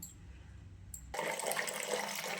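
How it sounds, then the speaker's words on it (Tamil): Water suddenly gushes and pours steadily as soaking water is drained off black kavuni rice, a loud rushing flow that starts after a quiet moment and keeps going. "தண்ணியை நல்லா வடிச்சுக்கோங்க"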